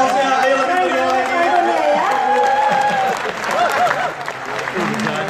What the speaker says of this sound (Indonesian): Kita beri tepuk tangan buat Ibu Susi Budiantuti.